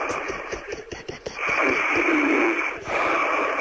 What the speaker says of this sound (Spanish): a ver si sigue roncando